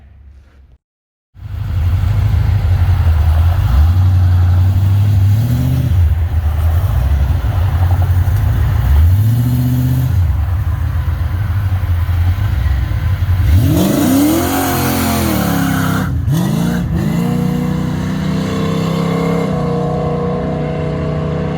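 A 1978 Chevy Malibu with a carbureted LS engine swap idles with a deep rumble, then revs and pulls away in several rising throttle bursts, loud and close with no voices.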